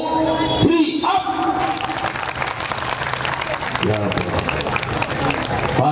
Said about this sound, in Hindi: बाकी मान दे भी क्या ताली की आवाज है ये